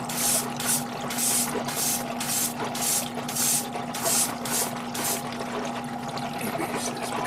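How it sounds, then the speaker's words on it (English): A Timber Tech airbrush sprays paint onto a 1/100 Master Grade Zeta Gundam Ver. Ka model kit, giving a steady hiss with a faint tonal hum, broken by rhythmic bursts of louder spray about twice per second. "right now I'm using the TimberTech airbrush"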